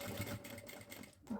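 A sewing machine stitches to the end of a seam on a half-moon pouch, with a loud, close, continuous motor whir and rapid needle chatter throughout the short burst.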